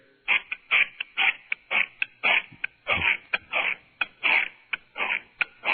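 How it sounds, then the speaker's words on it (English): Someone chews a carrot over a narrow-band phone line: a regular series of crisp, crunchy bites, about three per second, loud and close with no talking. "Sounds like he's chewing a carrot."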